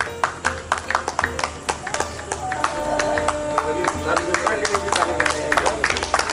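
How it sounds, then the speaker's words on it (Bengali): An audience at a prize announcement claps for an award winner, a crowd of hands building from scattered claps into steady applause, with background talk and music under it. "জোরে হাততালি দেওয়া হোক।"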